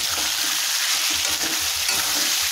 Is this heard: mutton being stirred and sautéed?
yes